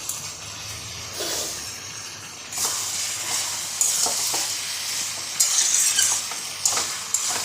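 Soybean chunks fry in a hot pan with plenty of spices, giving a close, bright sizzle broken by repeated scraping stirs and clinks of the spoon against the pan, with no talking.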